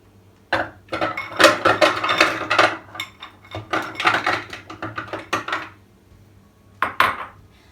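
A food processor chops frozen strawberries, a low motor hum beneath a busy, irregular clatter of hard frozen pieces knocking against the bowl and blade, close and fairly loud, easing off near the end.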